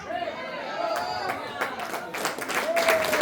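A church congregation claps during a Spanish-language worship service. The applause and crowd chatter build and grow louder toward the end.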